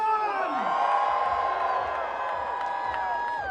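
NC State fans celebrate ACC title and Final Four runs at the Bell Tower, a crowd roaring and whooping steadily, loud and continuous, under a reporter's voice.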